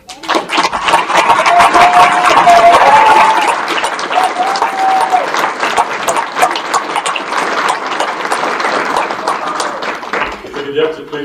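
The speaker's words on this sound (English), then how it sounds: "You can all give them a round of applause." Loud, sustained applause from a large crowd at a police academy graduation ceremony, steady clapping filling the hall and tapering slightly toward the end, with voices mixed in.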